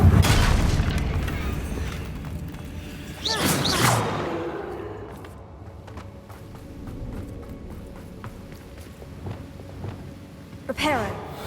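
A Confringo spell explosion bursts in Hogwarts Legacy near a bridge: a single loud, sharp blast with a swooshing tail, then quieter game ambience and small impacts.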